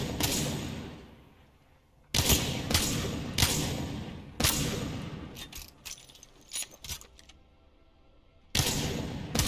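Apex Legends gunfire against practice bots comes in bursts: several loud, sharp shots close together, then a stretch of quicker, lighter cracks, and one more shot near the end, with quiet gaps between.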